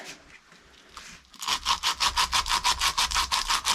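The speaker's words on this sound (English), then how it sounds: "around the perimeter with the sandpaper, and that should get rid of the rest of the sticky rubber and the rust" Sandpaper scrubs rust and sticky rubber from the perimeter of a front brake caliper on a Mini Cooper. After a quiet start, about ten rapid, even rasping strokes follow, close and loud, with no voices.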